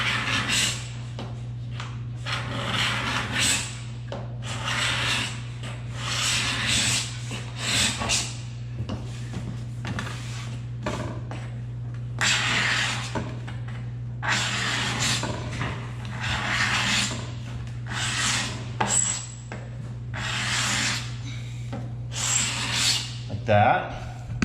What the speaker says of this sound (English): Now we're going to take a scraper and we're going to actually scrape right along that edge there.